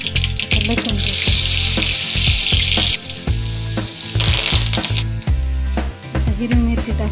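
Garlic dropped into hot oil with mustard seeds for a tempering for dal with spinach: a loud, continuous sizzle and crackle, with frequent sharp clinks of a utensil stirring in the pan.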